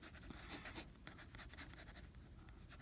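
Flexible nib of a vintage 1940s Waterman fountain pen scratching across paper while drawing, a soft, steady close-up scratch with small irregular strokes and no voices.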